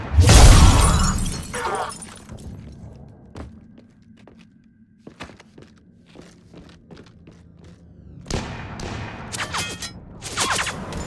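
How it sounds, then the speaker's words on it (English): Gunfire erupts in a Mass Effect firefight: a loud burst of shots and crashing impacts opens, then scattered thuds and clatters follow before another heavy volley near the end. "She needs covering fire."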